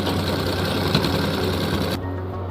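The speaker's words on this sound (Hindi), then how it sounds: "हम इसके इलास्टिक को खींच के बीच में सिलाई लगाएंगे।" Sewing machine stitching stretched elastic into the waist of a garara, a steady close mechanical whir running without pause, then dropping in brightness near the end as the stitching slows.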